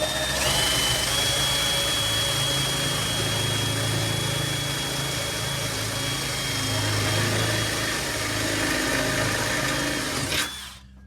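A power drill whirs loudly and continuously for about ten seconds, close by, then abruptly stops.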